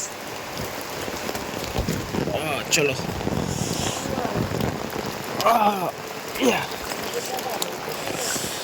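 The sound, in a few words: heavy rain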